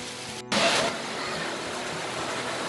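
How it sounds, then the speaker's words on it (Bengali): Rain begins falling at a desert picnic spot, a steady broadband hiss that bursts in abruptly after a brief silence and then holds constant and fairly loud. "এই যে দেখুন বৃষ্টি পড়া শুরু"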